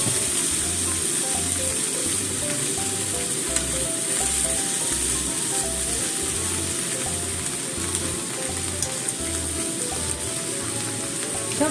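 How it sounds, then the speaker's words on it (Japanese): Spring cabbage stir-frying in a pan with a little egg, a loud, steady sizzle and crackle throughout, with rhythmic low knocks of stirring or tossing and no talk. "今度はキャベツ、 春キャベツを炒めます。"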